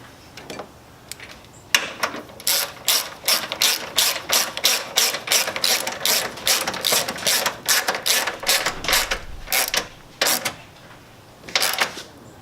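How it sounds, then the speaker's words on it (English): Hand ratchet clicking in rapid bursts as a long bolt is tightened on the engine control module mount of a 2015-or-later Dodge Challenger/Charger SRT Hellcat, close and crisp, with short pauses between runs of clicks. "you're gonna get your big long bolt and you put that in there and then you can tighten that down"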